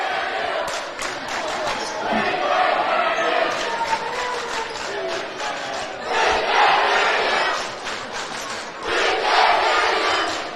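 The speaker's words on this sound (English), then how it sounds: "They're chanting back and forth." Large high school basketball student sections roar and chant in loud, rhythmic waves, surging and falling as groups shout back and forth, with sharp thuds scattered through.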